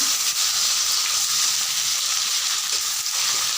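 Chopped onions go into a hot pan with black pepper, cinnamon and cumin, giving a steady close sizzle of frying in oil that holds evenly throughout.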